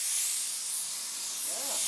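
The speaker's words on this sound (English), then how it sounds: "We're spraying right over the rust." A steady hiss of spray paint from an aerosol can, close and continuous, sprayed over rust on a 1949 Chevrolet, easing slightly mid-burst before resuming.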